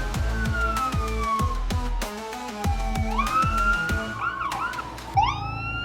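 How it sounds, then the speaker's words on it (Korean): Ambulance siren sound effect, a loud wailing tone sweeping up and down over a busy, cluttered background, continuous throughout and changing pitch near the end, with no voices. "어디선가 구급차의 사이렌 소리가 들리는가 싶더니 이내 빠르게 운동장 안으로 들어왔다."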